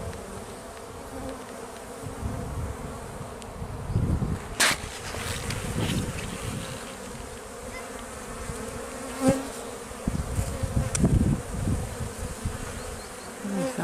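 Honeybees from a weak hive buzz steadily during an inspection in cool weather, with a continuous close drone, individual bees passing near and occasional handling knocks.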